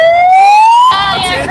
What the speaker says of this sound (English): There's this siren.